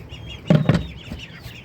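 Chickens on a small farm where pigeons and ducks are also kept, a couple of short clucks rising briefly over a quiet background, close by.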